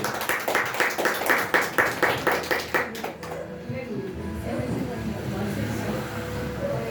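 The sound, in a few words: congregation clapping hands joyfully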